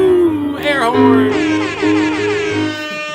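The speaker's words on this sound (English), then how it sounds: "Air horn." A loud, brassy air horn sound effect blares close and alone, with a wavering, stuttering pitch that rises and bends over a few seconds.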